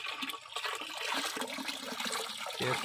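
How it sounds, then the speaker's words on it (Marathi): Water gushes and splashes continuously into a barrel, a rushing, hollow pour that ends with a brief knock. "हे झालेलं पाणी आपण काय करायचं आहे तर ह्या बॅरलमध्ये ओतायचं आहे"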